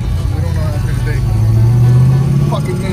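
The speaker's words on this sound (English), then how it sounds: "Tyler wanted to take me for a ride in a 67 Chevelle wagon that he's procured" Engine of a 1967 Chevelle wagon with a 5.3 LS V8 and six-speed, a loud steady low rumble from inside the car that rises slightly in pitch midway.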